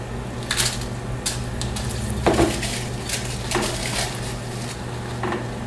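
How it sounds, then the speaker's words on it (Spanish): Dried arbol chiles fry in a pan while a utensil stirs and scrapes them, making sharp clacks and scrapes over a steady low hum of sizzling and kitchen background. "Hay que estarlos moviendo los chiles que no se nos quemen. Unos 10 segundos nada más y los ya terminamos de freír."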